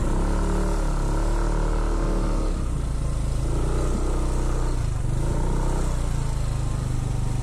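A motorcycle rides close into an employee motorcycle parking area, its engine idling and puttering loudly with a steady low drone that dips and rises as it slows and moves along.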